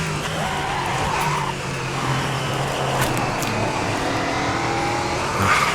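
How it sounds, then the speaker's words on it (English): In a multiclass endurance sim racing game with LMP3 and GT2 cars, a car locks its tires under braking, giving scrubbing squeal and skid noise over a steady engine drone, with a few sharp clicks and other cars audible. "Really bad lockup under braking."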